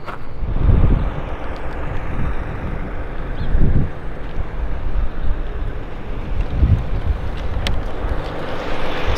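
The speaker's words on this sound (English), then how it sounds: "It's a little bit windy over here" Gusty wind at a highway rest area buffets the microphone with low, rumbling surges that swell and fade. The wind blows steadily throughout, with no voices.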